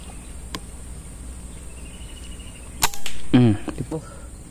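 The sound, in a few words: air rifle shots while hunting birds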